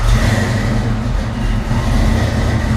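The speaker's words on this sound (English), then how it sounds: "I'm gonna try to do a first startup on this thing and see how this turns out." A Foxbody Mustang V8 fires up for the first time after a Holley fuel system install, settling into a loud, steady, rumbling idle up close with a slightly uneven, hunting rhythm.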